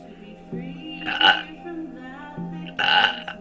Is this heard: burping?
yes